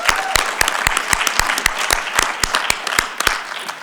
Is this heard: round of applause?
yes